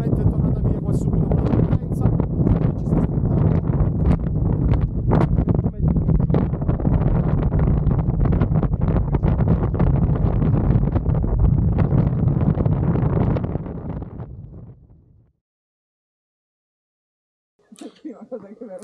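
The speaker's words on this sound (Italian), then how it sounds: "c'è troppo vento esagerato" Loud, steady strong mountain wind roars and buffets against the microphone for about fifteen seconds near Sasso Nero in Valle Aurina, South Tyrol, then drops to near silence before faint rustling returns.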